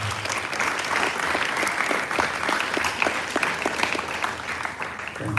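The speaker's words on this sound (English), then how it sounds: "give a huge round of applause to yourself" An audience at a school sixth form leadership summit claps loudly and steadily, a dense sustained round of applause from a large indoor crowd with no talk over it.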